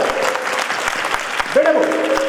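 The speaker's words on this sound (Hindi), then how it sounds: "एक बार इसके लिए तालियां बजाओ।" Audience applause breaks out at a spiritual gathering with a guru, a steady dense clapping that fills the room, with a voice rising briefly over it near the end.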